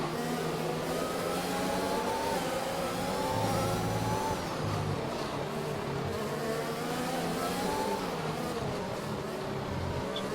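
A pack of Formula-style race cars in a racing video game roar through a restart in Spain, several engines whining and shifting pitch together at close range, continuous and loud throughout.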